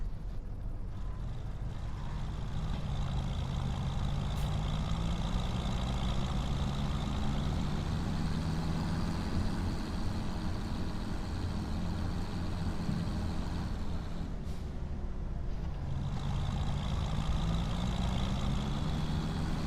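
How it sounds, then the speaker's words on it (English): A tractor engine in the Farming Simulator 25 video game runs in a low, steady drone, its pitch drifting slightly up and down for about twenty seconds with no talking. "I do love the sound of this tractor."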